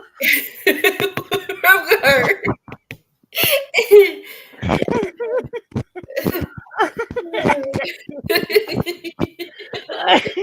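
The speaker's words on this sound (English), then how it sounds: "Now I'm gonna cough to death." A person coughs in several harsh bursts amid laughter and chuckling, mixed with bits of conversation, the coughs close and loud with brief pauses between.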